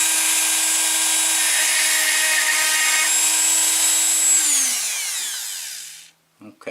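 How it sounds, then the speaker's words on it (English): A hacksaw blade, driven by a power tool, cuts into an Arrow KIK six-pin lock cylinder with a steady, loud whine, then winds down and stops, followed by a few small clunks near the end. "let's use the hacksaw blade again"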